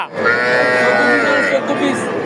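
A Sahiwal cow or calf at a crowded village cattle market lets out one long, loud, close moo lasting about two seconds.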